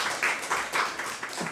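A Korean church congregation at a Sunday worship service gives a brief, fairly quiet round of steady clapping with no voices over it.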